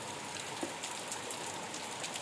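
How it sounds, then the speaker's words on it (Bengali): Heavy rain from Cyclone Remal pours down over Pathar Pratima in the Sundarbans, a steady dense hiss of water striking surfaces with no voices over it. "প্রচুর বৃষ্টি হচ্ছে দেখতে পাচ্ছ উপর থেকে জল পড়ছে"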